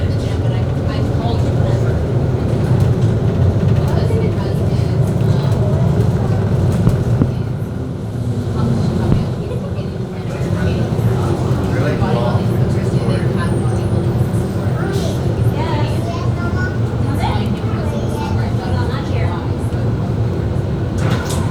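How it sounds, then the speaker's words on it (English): Miami MetroMover train approaching Fifth Street Station, a steady loud rumble and hum of the moving car heard from inside, with voices talking over it. "The train is approaching. Fifth Street Station."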